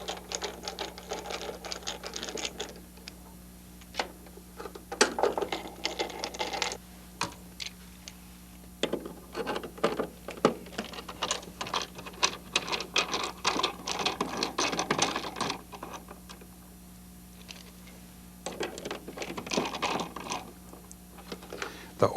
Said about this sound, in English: So now we take off the screws.